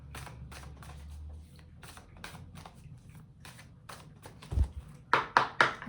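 A deck of cards is shuffled close by in repeated quick riffles and bridges, a series of crisp fluttering bursts with small taps, louder snaps near the end, and no talking.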